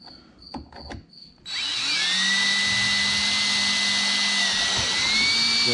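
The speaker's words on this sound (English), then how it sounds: "I'm gonna go ahead and drill two holes." A power drill bores through the plastic of an ice fishing shanty sled after a few knocks, then runs loud and continuous for several seconds, its pitch wavering slightly as it cuts.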